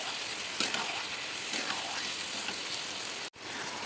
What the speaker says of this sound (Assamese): এয়া কেঁচা পিঁয়াজ আৰু মাংসটো মই এতিয়া পূৰা ভাজি আছোঁ